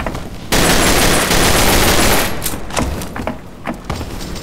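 Kimbo guns firing in a video game, a loud sustained fusillade that opens abruptly, then breaks into scattered sharp shots and short bursts as it thins out.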